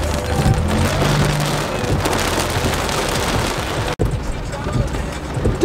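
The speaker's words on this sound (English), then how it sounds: "just started hailing" Hail falling outdoors in the Ozarks, a dense continuous rattling patter with wind buffeting the microphone, loud and close, with a brief voice underneath.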